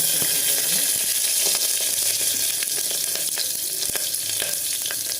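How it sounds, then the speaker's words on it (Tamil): Fennel seeds and three green chillies are tempered in hot oil for palak poori, giving a continuous crackling sizzle with small pops and a few scraping stirs, close and fairly loud with no talk. "நம்ம எண்ணெய் காஞ்சிடுச்சுங்க கொஞ்சோண்டு பெருஞ்சீரகம் போட்டுருக்குறேன் மூணு பச்சை மிளகா"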